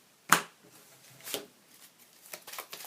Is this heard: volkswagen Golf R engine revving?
no